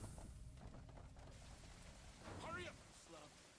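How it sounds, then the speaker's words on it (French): Steady rain hiss in Aliens: Dark Descent, a broad wash of falling water with a low rumble beneath, joined by a brief brighter tonal sound near the end; no talk over it. "Ah, il pleut ici."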